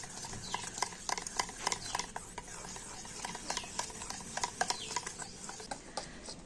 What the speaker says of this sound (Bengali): তো জল দিয়ে ব্যাটারটা কিন্তু খুব ভালো করে ফেটিয়ে নেব